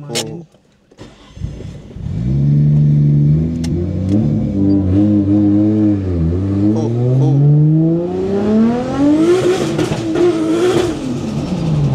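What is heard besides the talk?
Nissan Skyline R34 GTR engine revving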